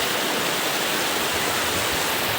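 Water rushes steadily in a flowing village stream, a close, loud, continuous broadband wash as someone wades through it, with no voices.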